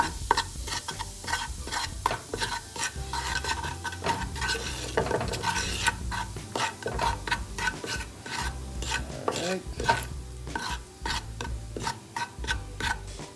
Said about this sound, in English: I'm just gonna mix that up so you get nice consistency